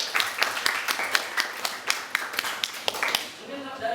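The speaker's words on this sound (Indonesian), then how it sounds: "Jangan tepuk tangan dulu dong" Hand clapping in a classroom, a run of sharp, fairly regular claps spread over a few seconds, moderately close, with voices talking alongside and trailing off at the end.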